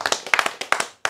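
Short bursts of audience hand clapping at a religious lecture gathering, several quick sharp claps in irregular clusters, close and fairly loud, with a brief silence near the end.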